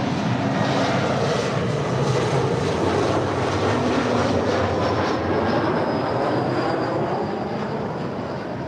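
A Delta Connection SkyWest Embraer E175LR airliner arriving at LAX from Spokane, heard as a loud, sustained engine roar with a faint rising whine toward the end, alone without voices.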